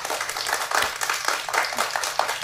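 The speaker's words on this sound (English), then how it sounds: "We could hype her up and give her a round of applause." A small group claps for a friend in a close, lively burst, uneven overlapping claps with a bright, roomy texture, fairly loud and steady across a couple of seconds.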